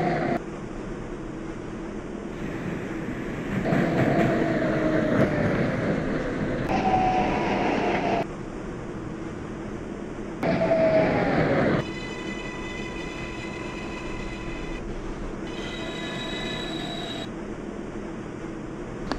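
A Manhattan-bound 6 local subway train runs in New York: a steady rumble of wheels on rails with rhythmic clacking, surges of louder roaring, and high squealing tones from wheels and motors, with no talking.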